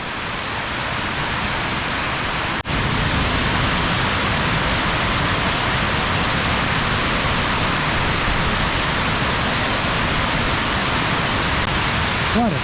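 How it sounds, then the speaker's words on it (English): Water gushes out of a hydroelectric station in the Elan Valley, a loud, steady broadband roar like a waterfall that holds constant throughout after a brief abrupt jump near the start. "there you can see the water coming out of the hydroelectric station on the left"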